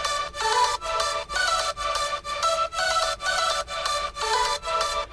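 Bright synth lead melody played with no pitch bends, a sequence of evenly spaced, sustained notes broken by short regular gaps, fairly loud and alone with no talking.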